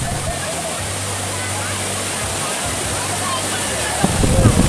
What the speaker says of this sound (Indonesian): Dengan pesona air terjun bertingkat dan airnya yang sangat jernih